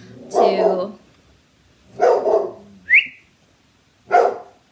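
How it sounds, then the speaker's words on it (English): A territorial dog barks at squirrels outdoors, giving three loud, drawn-out barks with a short high whining yelp between them. The barks come close and clear against quiet surroundings. "My dog is very territorial over squirrels."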